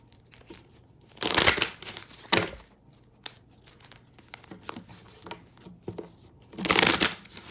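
Tarot cards being shuffled up close: a few short riffling bursts separated by quiet pauses, with small taps and rustles in between.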